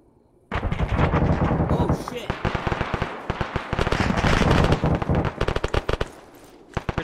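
Heavy gunfire in an Arma military game firefight: dense automatic bursts and rapid shots break in suddenly and loudly, thinning into scattered single cracks toward the end.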